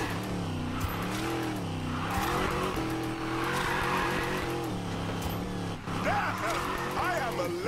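A car in NFS Payback drifts through a sequence of rising and falling engine revs and drawn-out tire squeals, loud and close with a slight break near the end, while a person talks over it.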